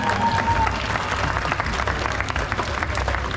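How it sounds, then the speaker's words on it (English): Crowd at a Six Flags Discovery Kingdom tiger show applauding for Kismet the tiger, sustained dense clapping from many hands throughout, with faint crowd murmur. "how about a big round of applause for Kismet, folks?"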